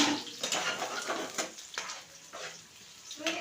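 Sliced onions dropped into a pan with biryani leaf, cinnamon, stone flower and chili for a chicken fry, sizzling steadily and fairly close while a utensil stirs them in brief scraping strokes.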